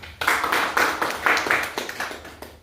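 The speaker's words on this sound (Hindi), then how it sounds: "ताली बजाओ सब लोग सृष्टि के लिए" An audience claps in a series of bursts of applause, close and fairly loud, the clapping swelling and fading in waves, with no talk over it.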